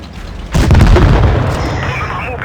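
A tank cannon fires a single heavy shot in a video game, a sudden loud boom followed by a rumbling decay that fades over about two seconds.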